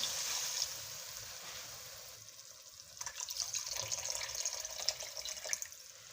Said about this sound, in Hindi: 1 कप पानी डालने लगे हैं इसमें।